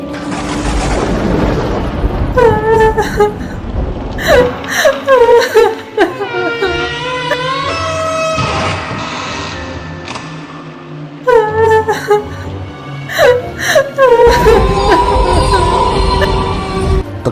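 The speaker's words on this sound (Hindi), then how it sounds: "कभी वहां किसी के रोने की आवाज आती," Eerie horror-story sound effect of someone crying, with sobbing and whimpering phrases broken by pauses, set against low rumbling booms and a dark ambient background.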